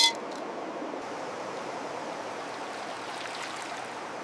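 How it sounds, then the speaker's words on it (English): Water and sediment swirl continuously in a gold pan in a canyon, a steady close washing rush with a brief splash at the start, heard alone. "I swirl the mixture so the lighter sand rises and washes away"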